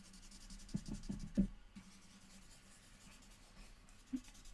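Charcoal stick scratching and rubbing across paper while drawing a portrait, with a few short, louder strokes early on and then quieter continuous rubbing, close and fairly faint.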